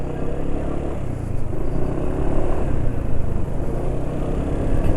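A motorcycle engine idles after a change to STP 100% synthetic oil, its close, steady rumble with slight surges as the RPM settles and drops.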